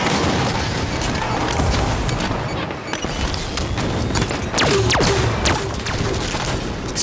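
Rockets from a Hydra launcher in Halo 5 go off in a rapid volley, a dense run of loud booms and blasts with whooshing streaks overlapping one another, almost like machine-gun fire.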